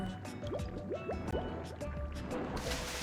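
Rushing waterfall water in the video game Yoshi and the Mysterious Book, a steady watery wash with quick bubbly upward blips repeating through it, growing into a broader splashy rush near the end.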